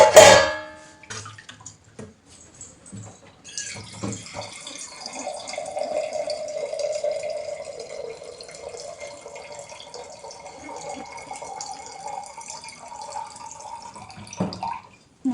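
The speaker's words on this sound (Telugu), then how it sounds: "ఇందులో మనకు కావాల్సినంత వాటర్ వేసుకుంటే" Water poured from a tap or vessel into a cooking pot, a clatter at first, then a steady splashing stream that runs for about ten seconds before stopping, close and fairly clear, no talking.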